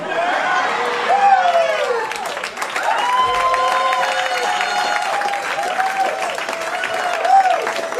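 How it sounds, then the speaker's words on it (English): A room audience cheers and claps loudly and continuously, with whoops and shouts over steady applause, the crowd noise holding strong throughout. "They're cheering and clapping."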